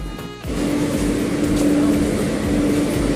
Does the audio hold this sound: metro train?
yes